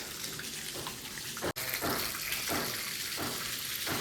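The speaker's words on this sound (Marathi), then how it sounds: "पाणी मारो पाणी मारो पाणी मारो" Water spraying from a hose or tap, a steady rushing hiss that pulses in repeated bursts, with one sharp break partway through; close by and with no talking over it.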